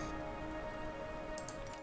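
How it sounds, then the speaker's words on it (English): Rain at Birmingham airport in Microsoft Flight Simulator: a steady, even wash of rainfall holds throughout at a moderate level, with a constant low tonal hum beneath and a few brighter patters near the end. "it's a very rainy Birmingham"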